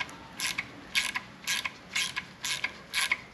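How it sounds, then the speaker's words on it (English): A Time-Sert thread repair insert being tightened into an engine cylinder head with a hand tool, giving a close, regular series of ratcheting metallic clicks and creaks, roughly two per second, with no speech. "This is tightening the time cert against the cylinder head and the threads that we have."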